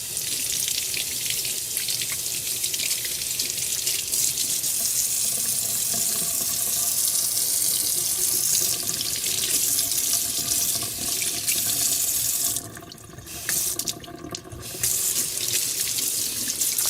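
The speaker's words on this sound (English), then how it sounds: "So I put this under running water and I gently caressed it" Steady running sink tap water pours without a break over a roasted eggplant being rinsed, with water splashing and spattering, and two short dips in the flow near the end.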